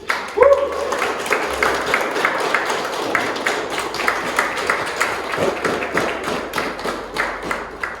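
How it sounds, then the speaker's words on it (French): A congregation in a chapel applauds newly baptized children, uneven clapping with sharp hand slaps and a few thumps. A brief voice sounds near the start before the clapping carries on alone. "Nous allons les applaudir parce qu'ils sont devenus des chrétiens."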